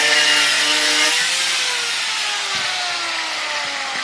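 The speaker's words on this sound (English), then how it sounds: "just started drilling just as I'm shooting my video" An electric drill whines steadily at home, a loud, continuous high-pitched buzz that holds nearly level and tails off slightly, running alone without any talk.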